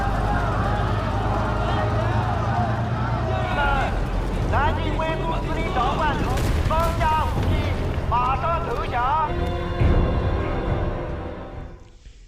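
Dramatic World War II scene effects: deep tank booms, gunfire and explosions rumble continuously, mixed with panicked civilian crowd noise and shouting, fading out at the end.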